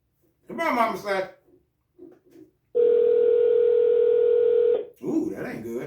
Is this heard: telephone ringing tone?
yes